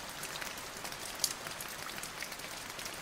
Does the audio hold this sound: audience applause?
no